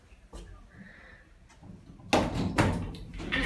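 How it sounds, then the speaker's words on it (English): A 2010 Horizon passenger lift, rated 500 kilograms and 20 persons, has its doors sliding shut: quiet clicks first, then a louder rumbling close with a couple of thuds, heard nearby inside the car. "Door closes when I push the button like that."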